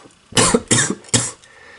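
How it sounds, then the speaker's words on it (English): Three harsh, close coughs in quick succession, each a loud burst followed by a short gap. "Oh, I apologize for the coughing."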